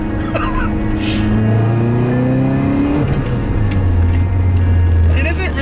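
A Volkswagen Scirocco 16V's engine, a 2-liter 16-valve swap, revs up and down repeatedly, rising and falling in pitch, loud and close, with a brief shift-like drop midway.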